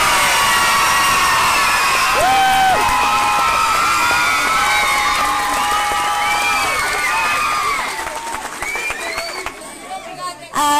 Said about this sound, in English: Give the loudest cheer you can possible for the 5 in a row All-Ireland Ladies Football Champions.